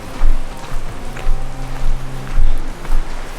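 Water flowing in a river beside a trail rest area in the Grand Canyon, a steady broadband wash with splashy surges, close and moderately loud, with a low hum running underneath.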